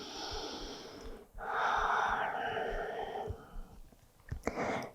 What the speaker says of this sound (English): so breathing deep